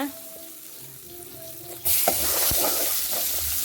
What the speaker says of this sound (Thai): จะผัดผักกาดผักกาดรองนะคะ